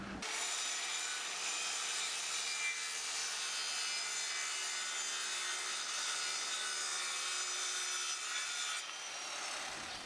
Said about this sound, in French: mon papa a découpé un petit carré comme ça de planche en bois